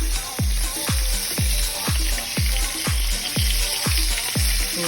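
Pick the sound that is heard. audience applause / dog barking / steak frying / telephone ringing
steak frying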